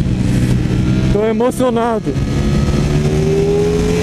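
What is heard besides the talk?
Ducati Streetfighter V4S motorcycle engine revving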